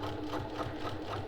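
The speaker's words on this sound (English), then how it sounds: "we're going to sew this bottom seam" Sewing machine stitching the bottom seam of a zipper pouch, a continuous close motor hum with a fast regular needle rhythm throughout.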